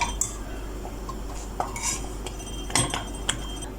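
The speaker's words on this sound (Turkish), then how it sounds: "Karıştıra karıştıra soğutuyorsunuz." Homemade vanilla ice cream mixture stirred in a pot as it cools off the heat, with quiet scattered clinks and scrapes of a utensil against metal in a calm kitchen.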